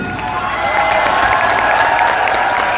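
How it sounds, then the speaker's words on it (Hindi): Standing seminar audience in Sultanpur clapping loudly for themselves, dense continuous applause with some cheering close by, filling the whole moment. "एक बार खड़े हो जाओ और जोरदार हंसो और एकदम से मस्त वाली ताली बजा दो अपने आप के लिए"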